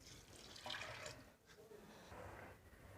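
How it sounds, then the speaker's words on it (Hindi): Water pours into a metal pressure cooker holding mixed dal in a quiet splashing stream, briefly pausing midway before continuing, with faint background noise. "अब मैं इसके अंदर में पानी डाल दूंगी।"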